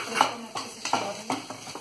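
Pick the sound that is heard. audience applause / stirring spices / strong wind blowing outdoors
stirring spices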